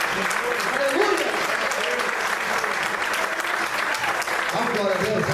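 A worship congregation breaks into loud, sustained applause for over five seconds, a thick continuous clatter of many hands with faint voices and cheers mixed underneath.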